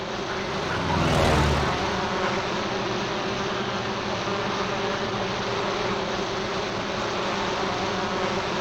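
A video-game crop duster aircraft buzzes continuously like a droning insect, swelling louder for a moment near the start as it sweeps by, then holding a steady hum with no voices.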